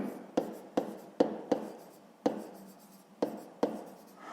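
A pen writes on paper during a grade-five maths exercise, with a series of soft, close strokes and taps spaced roughly half a second apart.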